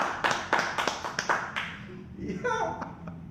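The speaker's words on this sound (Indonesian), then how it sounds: "Baru tepuk tangan." Applause during a talk on a pharmaceutical business, a handful of distinct, irregular claps rising near the mic, then tapering off as a voice begins speaking.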